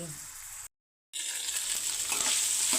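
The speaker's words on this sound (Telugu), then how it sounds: "ఇలా వేగుతున్న దీంట్లోనికి ఇలా పీసెస్ చేసుకున్న నల్లిని కూడా వేసి కలిపేసుకుందామండి" Mutton bone marrow pieces for an Andhra-style fry sizzle loudly in a frying pan, a steady bright crackle that cuts out briefly, then returns fuller as the pieces are stirred in.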